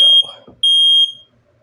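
Fire alarm sounding during a walk test: two loud, shrill electronic tones, the first brief, a pause, then a longer sustained one around a second long, with a faint rumble between them.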